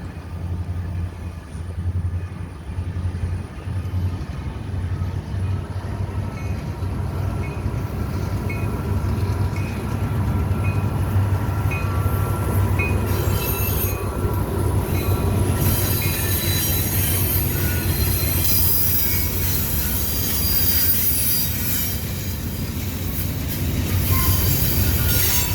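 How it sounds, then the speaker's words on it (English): A southbound CSX freight train led by a rebuilt SD70AC locomotive rolls past with a steady, loud rumble, its wheels squealing high and sustained over the roar throughout. "M523 would come south with SD70AC rebuild CSXT 4561 leading CSXT 9004"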